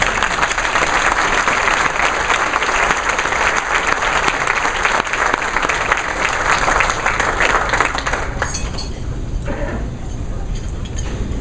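Loud, continuous clapping from a luncheon audience saluting scholar athletes at the Allstate Sugar Bowl gathering, steady for around eight seconds before thinning and tapering off, with some crowd chatter mixed in.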